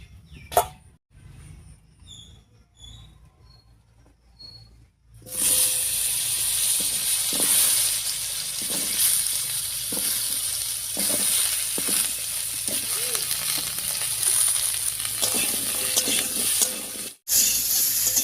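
Potatoes and pointed gourd dropped into leftover fish-frying oil in a kadai, a quiet pause giving way to a loud, sustained sizzling hiss with crackling pops that continues steadily, briefly dipping before resuming.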